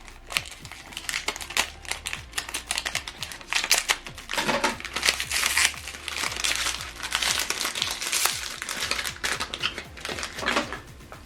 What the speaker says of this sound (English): So pull off this plastic